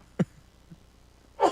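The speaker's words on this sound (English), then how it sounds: "Bless you. I sneezed." A man sneezes on a radio talk show, a short sharp burst at the start, a soft faint sound in between, then a louder breathy explosive sneeze near the end, close to the microphone.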